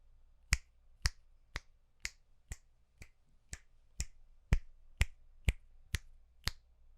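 Finger snaps made at points around a Stellar X3 microphone: about a dozen crisp, evenly spaced snaps roughly half a second apart, varying slightly in loudness against a quiet low hum.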